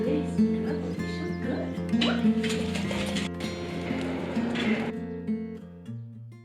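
A pet dog barks and yips in short repeated bursts while out on a park walk, close and fairly loud, over steady background noise with a person's voice mixed in.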